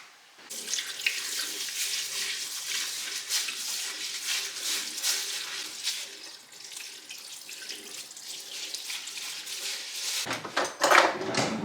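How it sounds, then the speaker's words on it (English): Tap water running steadily into a kitchen sink while rice is washed, a continuous splashing stream with a brief clatter and shift near the end. "I'll go and wash the rice."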